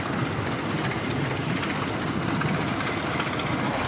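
A 1921 Best Model 60 crawler tractor rumbles past in an antique tractor parade, its heavy, steady engine drone holding constant and fairly loud throughout.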